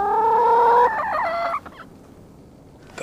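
A chicken in an Iranian comedy series gives a loud, close run of rising, wavering clucks and squawks, then falls quiet with only faint background noise.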